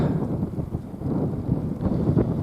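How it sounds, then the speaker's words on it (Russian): Strong wind sweeps along a riverbank where foam floats on the water, gusting into the microphone as an uneven roaring buffet that rises and falls with no talking. "Ух, ветер, блин, задрал."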